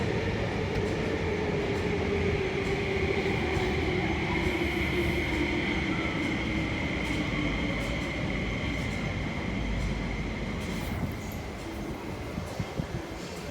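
A rush-hour train rumbles steadily alongside a platform at Siu Hong Station, with a sustained metallic whine and broadband rail noise that eases slightly toward the end.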